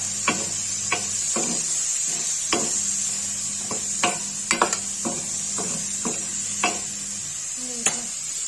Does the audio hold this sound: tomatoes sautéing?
yes